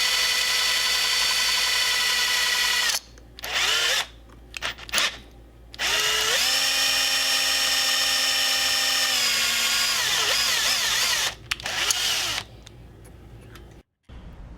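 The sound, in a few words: drilling post of Matchbox Ferrari F1 model at actual speed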